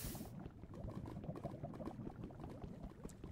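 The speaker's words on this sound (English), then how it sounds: "I'll place some water there, in here, and then keep the water there, so none of the obsidian will burn from the lava" Bubbling, fizzing liquid sounds in the Minecraft video game as water is placed near lava in the Nether, a steady dense burble lasting a few seconds.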